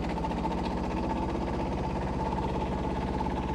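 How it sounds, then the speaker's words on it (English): Old Kubota two-cylinder diesel tractor idling steadily and a little rough, a continuous low chugging drone close by with no talk. "I think it's probably going to be a little bit rougher than a more-cylinder diesel"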